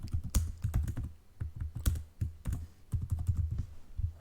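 Fingers type on a computer keyboard, a close, quiet run of irregular clicking keystrokes with short pauses, with no talking.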